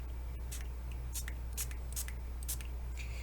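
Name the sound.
spray bottle spraying a tile artwork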